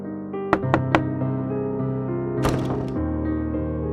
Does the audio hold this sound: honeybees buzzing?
no